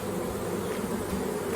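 Swarm of honey bees gathered on a deck, fanning their wings in a dense, continuous buzzing drone, close and steady throughout, with no voices.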